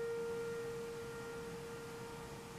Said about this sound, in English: my village is testing its uh, tornado siren